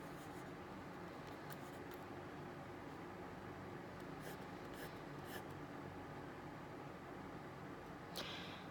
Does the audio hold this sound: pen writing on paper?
yes